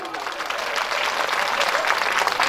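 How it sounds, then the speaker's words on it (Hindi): Loud, dense applause from an audience at a Shrimad Bhagwat Katha religious discourse, a steady wash of many hands clapping that swells slightly and continues without a break. "एक बार सबके लिए जोरदार तालियां बजाएंगे।"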